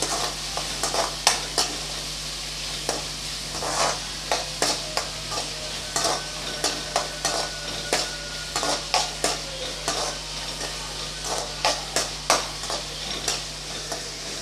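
Tomatoes and onions sauté in a pan for a village-style drumstick kuzhambu, a steady sizzle underneath while a spoon stirs and scrapes in frequent sharp strokes, close and fairly loud, with no talking.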